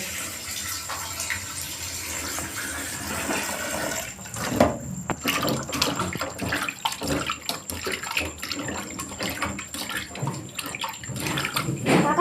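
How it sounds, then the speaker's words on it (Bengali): Raw chicken being washed under a running tap in a home kitchen, a steady broadband splash of water that thickens and grows louder after a brief pause, with no talk. "চিকেনটাকে আমরা ধুয়ে নেবো"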